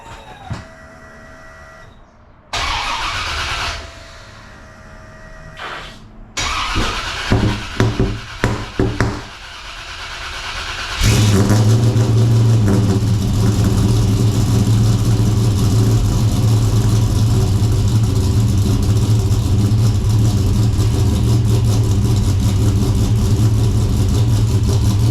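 Holden VN Commodore with a swapped LS1 V8 cranks after a few scattered clicks and knocks, then catches with some popping and settles into a loud, steady, rumbling idle that runs on close by.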